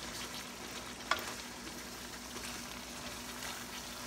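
Pork igado simmering in a pan, a steady soft sizzle and bubbling that runs evenly throughout, with one brief click near the start and no talking.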